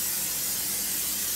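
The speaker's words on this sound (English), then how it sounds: "I'm going to spray my muffin tin right quick with some kitchen spray" Kitchen cooking spray mists onto a metal muffin tin in one steady, close hiss lasting just over a second, with no voices.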